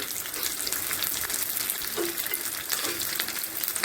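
Onion, curry leaves and three dried red chillies frying in oil for coconut chutney, making a constant close sizzle with a couple of faint stirring clinks.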